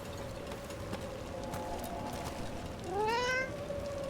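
Cat in the video game Dragon Age: The Veilguard gives a single clear, rising meow near the end, over faint game ambience and soft footsteps.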